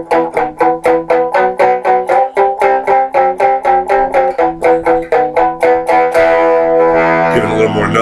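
Crunchy overdriven rhythm chords from an electric guitar into a Stiff Hippy II pedal, tone set about three-quarters up, strummed in a fast, steady pattern of repeated stabs before settling into a long ringing chord.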